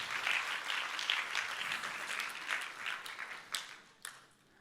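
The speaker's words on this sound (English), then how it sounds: "Please give them a round of applause." A crowd applauds steadily, dense clapping that gradually thins and fades, with a few louder isolated claps near the end.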